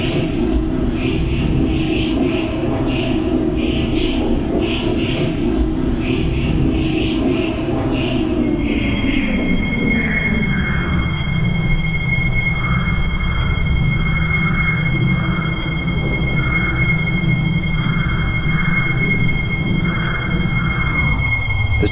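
A 9700 Series train in the Roblox game Delta Line Project rumbles into platform 2 and slows steadily, with a high metallic whine and squeal rising over the roar as it stops.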